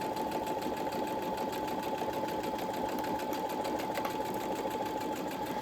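A sewing machine runs continuously, stitching a zipper pouch seam with a quarter-inch seam allowance, giving a close, even mechanical whir with a fast rhythmic needle chatter and no talking.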